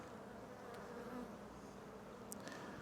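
Honeybees buzz in a soft, steady swarm hum while a hive is inspected, close by and uninterrupted by talk, with a brief knock near the end.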